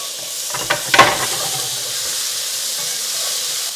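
Tomatoes drop into a hot pan with garlic and oil, giving a couple of soft thuds and then a steady, bright sizzling hiss that carries on evenly.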